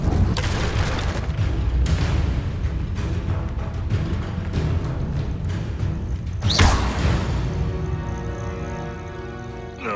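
Fire and explosive spell blasts from the Hogwarts Legacy video game boom in quick succession amid dense combat noise, with a sharp rising burst near the end before the action settles into a lighter ringing tail.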